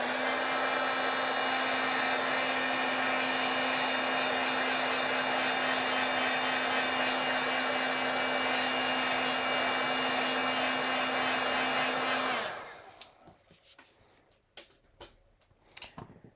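A heat tool blows a loud, steady whooshing roar with a constant hum while drying paint pen ink. It runs unbroken for about twelve seconds, then cuts off, leaving scattered soft clicks and taps.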